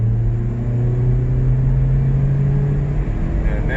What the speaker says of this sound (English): I'm going to full throttle it right now.